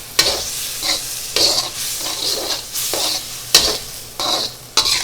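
Stir-fry being stirred in a hot pan after a splash of Zhaojing rice cooking wine, with repeated scraping strokes and bursts of sizzling in an uneven rhythm, close and fairly loud.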